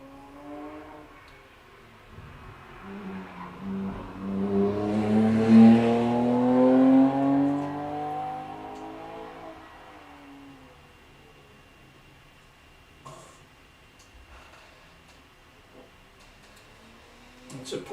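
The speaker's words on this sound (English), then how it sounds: "It's a Porsche coming down to infield hairpin." A Porsche sprint car at a Caithness Car Club sprint at Golspie's Littleferry layout swells in as it approaches the infield hairpin, its engine note rising to a loud peak before fading back into a faint idle-level background.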